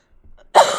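A single sharp, close cough bursts out after a moment of near silence, loud and harsh, then trails off briefly.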